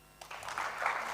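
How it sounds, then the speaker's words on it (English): An audience at a conference session on space debris policy bursts into applause, the clapping swelling quickly from quiet and holding steady, with no voices over it. "Let's give her a round of applause until she gets back."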